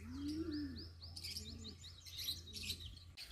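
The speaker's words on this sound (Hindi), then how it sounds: "पीछे चिड़ियों की आवाज़ें हैं" Birds behind a farmhouse: repeated soft low coos from a dove alongside quick bright chirps and tweets from smaller birds, a little distant, over a faint low steady hum and with no talking.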